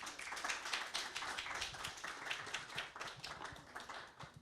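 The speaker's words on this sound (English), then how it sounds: "Round of applause for Brian," An audience at a talk applauds speaker Brian Dillon, a sustained, even patter of many hands clapping together, heard somewhat distant and quiet for several seconds.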